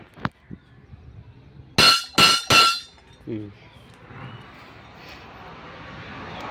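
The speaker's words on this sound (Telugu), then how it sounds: "ఒక గంట కొట్టి" A temple bell at a roadside Sammakka Sarakka shrine between Tekulapalli and Illandu is struck three times in quick succession. The loud metallic clangs come after a couple of faint knocks and fade into quiet outdoor ambience.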